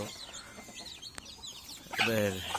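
Chickens kept in a cage on a small farm, with soft clucking near and low, one louder cluck-like call near the end, quiet background throughout.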